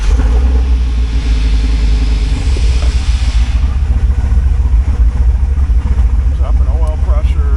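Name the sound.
2001 Dodge Viper RT/10 8.0L V10 engine running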